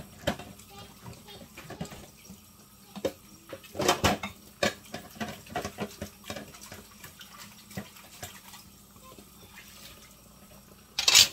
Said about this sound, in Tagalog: Sa dami ng hugasan. Ayan o. Oh. Ayan. Dami tayong hugasan ngayon.